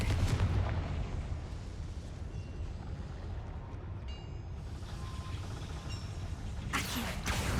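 A Confringo fire spell explodes in the Hogwarts Legacy video game, giving rumbling booms and blasts over a steady windy roar, with a brighter burst near the end and no talk.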